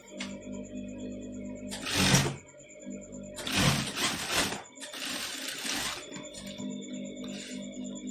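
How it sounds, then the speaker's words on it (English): A sewing machine stitches a half-inch seam in bursts, three or four runs of rapid mechanical whirring separated by quieter pauses over a constant low hum. "You're sewing from here half inch down."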